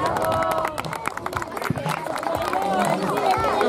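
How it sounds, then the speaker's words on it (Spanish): Crowd clapping at a youth sports awards event, a busy mix of claps and chatter with voices and shouts over the top at a fairly loud, close level. "Los aplausos."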